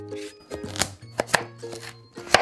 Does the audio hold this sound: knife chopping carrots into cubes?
yes